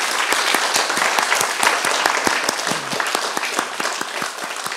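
A church congregation applauds during an ordination service, many crisp hand claps blending into a continuous, fairly loud ovation that holds steady throughout with no voices on top.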